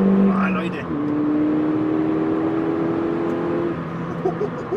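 Tuned Ford Fiesta ST180 with ECU remap, around 220 PS, accelerating hard from inside the cabin, a steady loud engine drone with rising pitch under a speaking voice.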